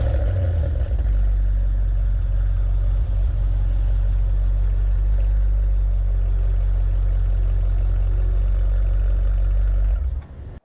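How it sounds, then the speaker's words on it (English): A 2022 Maserati Quattroporte Trofeo V8, in Sport Corsa mode, fires up and settles into a deep, steady idle, a strong low rumble that holds evenly for about ten seconds before cutting off, with no talking. "give it a startup. That's it. So you guys can still hear the V8 engine"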